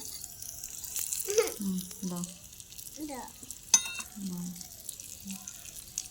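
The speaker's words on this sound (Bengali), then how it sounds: "এবার পেঁয়াজ কুচিটা দিয়ে দাও" Chopped onion tipped into hot oil in a miniature kitchen setup while pasta is being made, giving soft bubbling sizzle and scattered clinks from utensils, with a voice speaking over it.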